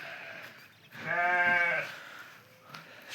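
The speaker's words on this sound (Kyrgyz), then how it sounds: "Монда 15 арашан ургачы козулар сатыкка чыкты." A female Arashan lamb, about eight to nine months old, gives a single loud, close bleat lasting around a second against a quiet background, followed by a faint shuffle.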